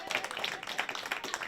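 A live talk-show studio audience claps, a brisk patter of many hands with uneven peaks, fairly close and continuous throughout, with voices mingled underneath.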